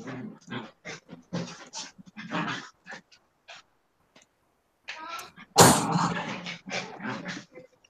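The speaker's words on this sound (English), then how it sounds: "And now I've got dogs in here wrestling by my feet." Dogs wrestle and pant near the floor by someone's feet, with bursts of huffing breaths, snorts and a sharp sneeze-like snuffle in uneven clusters, close and fairly loud, separated by short quiet gaps.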